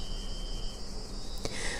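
Cicada song, a steady high insect drone, continues without a break for about two seconds, moderately faint and unaccompanied, with a brief sharp click near the end.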